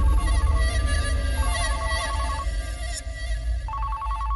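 A telephone rings steadily in a repeating electronic trill pattern over a low background hum, with no voices.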